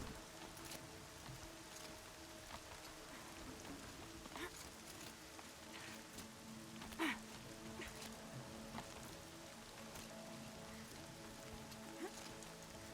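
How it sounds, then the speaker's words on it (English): Steady rain patters in the video game Horizon Zero Dawn, a dense, even wash of drops with faint scattered taps and occasional soft thuds running throughout at low level. "Everything's sharp and looming in the rain."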